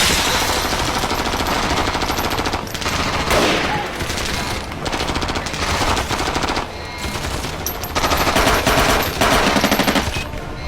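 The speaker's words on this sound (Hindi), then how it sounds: "बिना रोके गोली चलाते रहो।" Nonstop automatic weapons fire from an action movie battle pounds away loudly for the whole stretch, dense bursts with only brief lulls between volleys, and no talking over it.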